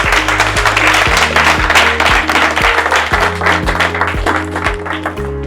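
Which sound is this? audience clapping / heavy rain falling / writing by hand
audience clapping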